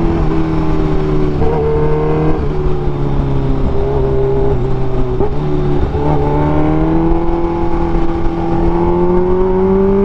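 A 2023 Kawasaki H2 supercharged motorcycle accelerates in third gear, its loud, close engine note climbing steadily in pitch for the whole stretch with no talk over it.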